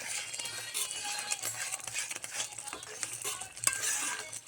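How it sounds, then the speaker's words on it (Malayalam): Mango payasam is stirred in a pot, a spoon scraping and swishing through the thick sweet mixture in close, irregular strokes with soft bubbling and light metallic clinks. No one speaks. "അതുകൊണ്ട് നമുക്കൊന്ന് ഇളക്കി കൊടുക്കണേ"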